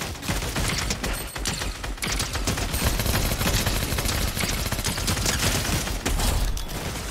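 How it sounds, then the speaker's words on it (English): Rapid bursts of gunfire from Fortnite Chapter 4 Season 1 gameplay, with a dense, continuous volley of shots that stays loud through the whole stretch, carrying no talk. "Why the hell are you shooting at an NPC, Jirana?"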